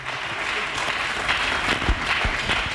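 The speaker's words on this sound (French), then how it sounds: "Acclamons très fort pour le roi des rois." Church congregation clapping steadily for a few seconds, a dense continuous applause filling the space, with a faint voice underneath.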